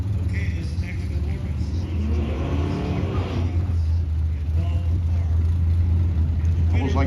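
A vintage drag car engine, a 55 Chevy Winnebago, revs hard and loud during dry hops at a classic car drag race in LA, a steady roaring drone with surging pitch, under a commentator's voice.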